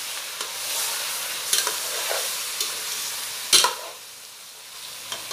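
Chicken pieces for chicken tinola go into a hot pan and sauté with a continuous sizzle, broken by a few sharp utensil scrapes and clanks from stirring, close and without speech.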